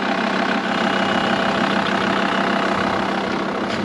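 A car engine idles steadily during a roadside stop on the Pamir Highway, a continuous dense rumble with no change in pace and no voices.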